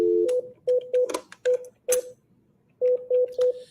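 Telephone keypad tones dial out to the White House comment line, a string of about ten short, clean beeps spaced in uneven groups with a pause in the middle, close and clear with no speech.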